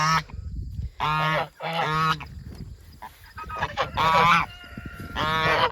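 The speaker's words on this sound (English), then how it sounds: "These are our African geese." Loud, close African geese honking in repeated harsh blasts, several birds calling over one another with short gaps between calls.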